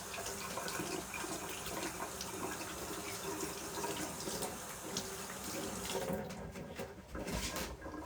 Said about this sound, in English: I'm just going to just give my hands a quick rinse